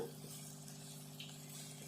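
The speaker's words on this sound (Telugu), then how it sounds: "కొద్దిసేపు ఈ రొయ్యలు కూడా మంచిగా వేగాలి ఈ దొండకాయతో పాటు." Prawns and ivy gourd fry in a pan, giving a soft, steady sizzle with faint stirring noises, quiet and continuous, and no one speaking.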